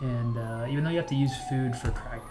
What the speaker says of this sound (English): sorry for the siren outside if you can hear that